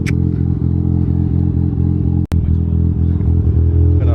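A Mazda RX-7 FD with a big-turbo rotary engine warms up at idle, giving a loud, steady, pulsing drone close by, broken by one sharp click.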